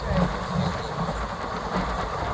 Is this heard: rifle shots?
no